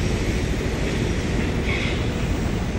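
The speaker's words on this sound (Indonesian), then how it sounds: "Setiap menit ada suara ini dari kereta api." A train rumbles past close by near a busy station on a crowded line, a steady, dense low roar of rolling rail cars that holds for the whole stretch with no pause.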